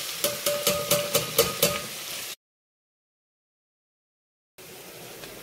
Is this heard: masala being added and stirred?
yes